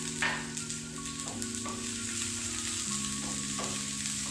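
Mustard seeds and urad dal crackle and sizzle in hot oil in a pan, a dense continuous close frying hiss with scattered pops and a few faint clinks of a spoon.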